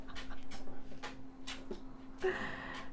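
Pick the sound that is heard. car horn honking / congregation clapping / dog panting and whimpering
dog panting and whimpering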